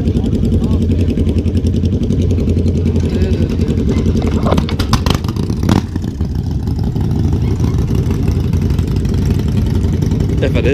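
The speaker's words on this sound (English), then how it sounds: "It's a Norton race bike." Norton race bike engine idling at an outdoor show, a steady loud rumbling beat running throughout, with faint crowd sounds in the background.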